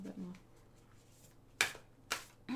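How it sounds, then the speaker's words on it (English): Tarot cards are shuffled in two short crisp riffles after a quiet stretch with a faint voice, with a third riffle starting at the end. "I'll just shuffle a little bit more."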